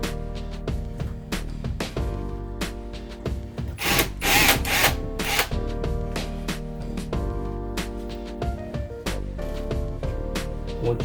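Power drill backing screws out of the back panel of an Arcade1up arcade cabinet, repeated close whirring bursts in short runs with brief pauses, the loudest stretch near the middle, no talking.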